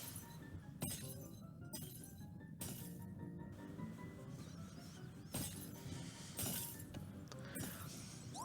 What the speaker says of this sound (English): Break some glass.